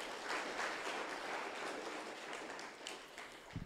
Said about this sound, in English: Kindly let us give Evelyne a good hand clap.